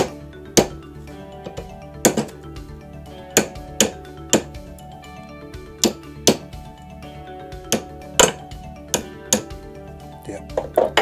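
Sharp metallic taps of a small hammer against a Floyd Rose guitar bridge fine tuner, struck singly and in quick pairs at an uneven pace, close and clear, with faint ringing between hits.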